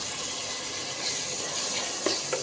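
Tomatoes, onions and chillies sauté in a pan for a brinjal biryani, making a continuous close hiss of steam and sizzle with a few faint scraping clicks near the end.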